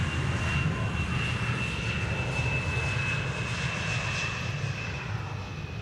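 Jet aircraft engines roar at Schiphol airport, a steady, loud, broadband rumble with a thin high whine held throughout, as planes taxi and arrive on the Polderbaan runway.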